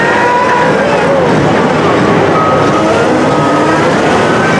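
A pro stock pulling tractor engine roars loud and continuous at a grandstand tractor pull event, a dense sustained mechanical drone throughout, with crowd and announcer sound blended in the background.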